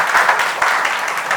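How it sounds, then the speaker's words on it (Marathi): Applause from a birthday gathering for a father's 60th birthday, a dense, steady wash of clapping from a group, close and fairly loud, filling the whole short moment without talk. "एकदा टाळ्या वाजून त्यांचा"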